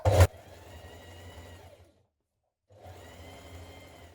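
Sewing machine stitching a hemband onto a top, a close steady mechanical whir that runs, stops briefly, then resumes, with no talk.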